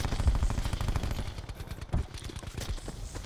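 Rapid automatic gunfire from Call of Duty Black Ops 4 on the Alcatraz map, a dense continuous stream of shots with a few heavier cracks, loud and close.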